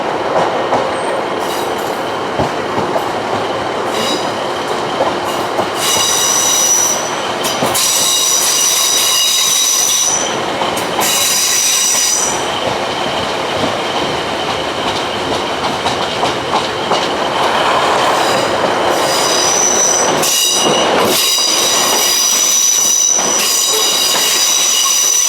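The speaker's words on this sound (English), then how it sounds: "So we're on another train now." Train on the Marston Vale line runs loudly from onboard, with continuous rumble, rhythmic wheel clatter and repeated high squeals from the wheels as it rolls along.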